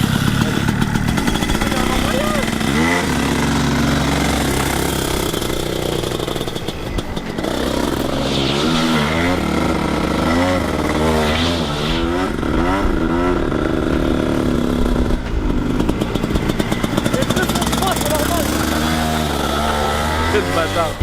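A motorcycle engine fires up and is held on a little throttle, settling into a steady idle with a few short revs and some mechanical clatter, close by and continuous.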